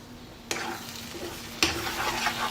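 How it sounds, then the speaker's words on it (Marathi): Schezwan chutney ingredients are stirred and mixed in a pan, with two sharp spoon strikes against the vessel over a soft steady sizzle, close and fairly quiet. "सर्व आधी एकत्र कालवून घेऊया."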